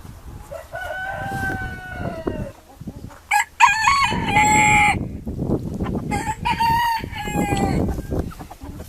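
Hens in a temporary holding pen, unfamiliar to them, cluck and call near the microphone, with a rooster-like crow and squawks rising midway among continuous farmyard bird noise.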